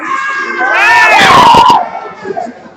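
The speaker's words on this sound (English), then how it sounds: "I want to hear the loudest cheer." Young 4-H members at a state leadership conference let out a brief, loud burst of shouting and cheering, a group of high voices rising together for about a second before trailing off into scattered calls.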